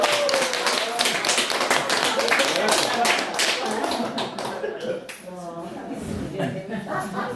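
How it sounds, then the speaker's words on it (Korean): Loud clapping from seniors gathered at a village senior center, a burst of rapid hand claps close by with chatter and light laughter mixed in, tapering off toward the end. "박수 한번 하세요"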